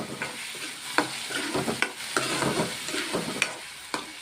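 Onion and tomato masala paste fries in a pan for an egg curry, giving a steady soft sizzle broken by scraping stirs and several sharp spoon taps against the pan, with no talking.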